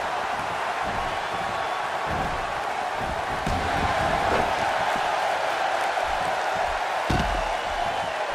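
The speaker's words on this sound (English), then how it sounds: "Another electric crowd on hand here for SmackDown" Steady roar of a wrestling arena crowd at a SmackDown event in the WWE 2K16 video game, a dense, continuous murmur that holds at a constant level for several seconds with a few faint thuds.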